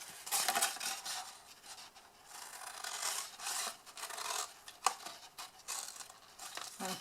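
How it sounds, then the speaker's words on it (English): Scissors snip a small wedge from a paper template, giving soft, close rasping cuts and rustles in short irregular bursts, with one sharper click. "So we're going to cut that away and again cut a small wedge."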